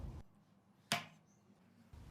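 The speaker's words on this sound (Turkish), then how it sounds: "Portakaldan doğramaya başladım. Uç kısmını aldıktan sonra ince ince doğruyorum." A single sharp knife cut through an orange on a board, brief and crisp against a quiet background hum.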